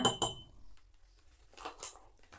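A teaspoon scoops dibek coffee, giving two quick, bright metallic clinks close by, then a pause before a couple of soft, brief scraping taps. No one speaks.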